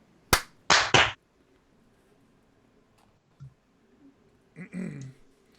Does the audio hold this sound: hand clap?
yes